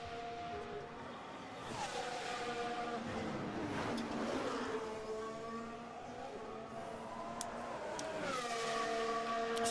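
A Formula 1 car races past at high speed at the Saudi Arabian Grand Prix, with a loud engine whine rising and falling in pitch throughout, heard under commentary.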